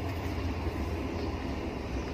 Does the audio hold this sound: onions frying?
no